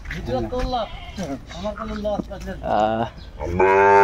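A native (deshi) bull moos several times in deep, drawn-out calls, loud and close, with a longer bellow at the end.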